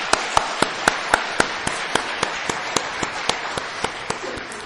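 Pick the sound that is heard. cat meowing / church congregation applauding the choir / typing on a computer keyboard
church congregation applauding the choir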